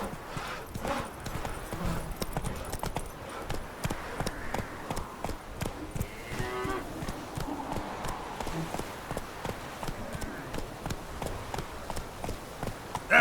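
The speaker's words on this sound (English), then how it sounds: "That's it, Roach" A horse gallops in The Witcher 3, hoofbeats pounding in a quick, continuous rhythm close by, with a brief whinny and game voices in the mix.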